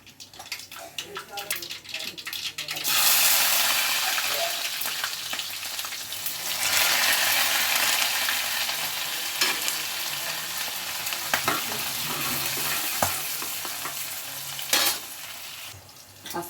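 Cumin seeds dropped into hot oil while tempering a curry burst into a loud crackling sizzle, then settle into steady frying with a few sharp pops; someone speaks briefly before it starts.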